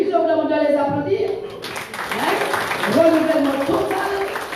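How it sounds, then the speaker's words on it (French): Audience applause at a village patronal festival during the official speeches, a dense wash of clapping that swells in after a brief stretch of amplified speech and continues steadily, with a voice still talking over it. "je vous demande de les applaudir"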